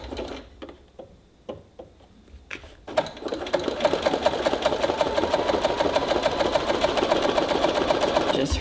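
A regular sewing machine stitches zigzag embroidery, starting with a few slow, separate clicks and then settling into a fast, continuous mechanical whir that runs steadily to the end.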